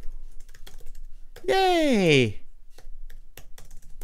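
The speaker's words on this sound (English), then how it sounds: "I suck at typing today." Quick keyboard clicks tap steadily throughout, close by, interrupted briefly by a cheerful exclaimed voice in the middle.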